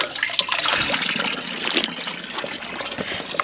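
Cold spring water running down from the forested Dhanaulti hills pours and splashes steadily in a close, continuous bright rush with no pauses, heard alone.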